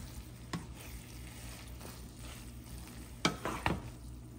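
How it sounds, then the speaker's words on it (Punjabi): Maggi noodles are stirred and mixed in a hot pan, sizzling steadily with a few sharp scrapes and clinks of the spoon against the pan, with no talk. "ਆਪਾਂ ਕਰਾਂਗੇ ਚੰਗੀ ਤਰ੍ਹਾਂ ਮਿਕਸ। ਮੈਗੀ ਆਪਣੀ ਤਿਆਰ ਆ।"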